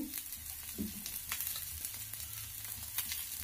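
Onions and egg fry in a pan with a soft, continuous sizzle and light crackling, fairly quiet and close, joined by a few faint stirring scrapes and no voices.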